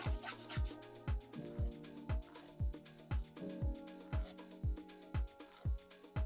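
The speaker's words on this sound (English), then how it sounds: "When you're filing your natural nails, you want to generally go in one direction." A nail file rasps against natural fingernails in a steady run of about fifteen short one-directional strokes, close and fairly quiet over faint background music.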